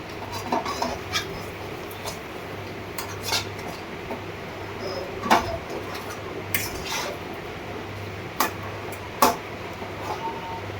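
A spoon stirs a dry sattu filling seasoned with chilli powder in a pan over low heat, making clinks and scrapes at irregular intervals over a low background hum, with no talking.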